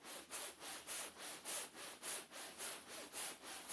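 Seat foam for a motorhome build being cut with a wire in short, fast strokes, a steady rasping rhythm of about a dozen even, close strokes with no talking.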